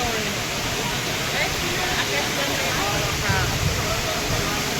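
Water pours steadily at Akashganga waterfall near Tirupati, a dense, continuous rushing roar that holds an even level throughout with no pauses.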